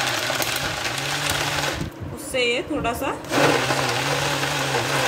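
A blender mashing wood apple pulp whirs steadily in the background with a low motor hum, briefly shifting pitch midway, while someone talks over it.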